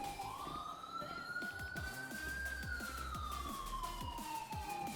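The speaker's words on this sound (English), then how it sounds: "why change the sirens? I just don't like default sirens." A police car siren in the game GTA wails steadily, rising and falling in a smooth sweep over continuous engine and traffic rumble, loud and close throughout with no talk.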